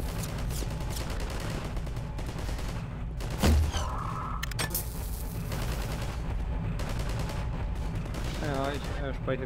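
Gunfire in Half-Life 2 during the Anticitizen One chapter, with repeated shots and bursts running under a dense, steady game soundscape, plus one louder impact near the middle of the clip.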